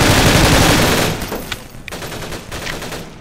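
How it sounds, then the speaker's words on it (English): A loud grenade blast in a Half-Life 2 mod shooter, opening with a dense roaring burst that fades into rattling gunfire and scattered sharp impacts. "Oh, that was a grenade! That hurt a lot!"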